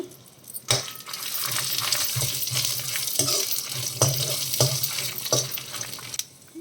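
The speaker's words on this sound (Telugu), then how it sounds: "కొంచెం ఆయిల్ వేసుకొని ఎండుమిర్చి ఫ్రై చేసుకుందాం వెల్లుల్లి వేసేసుకుందాం" Dried red chillies and garlic frying in a little oil, a bright continuous crackling sizzle with sharp clinks and spoon taps after an abrupt start, cutting off near the end, no voices.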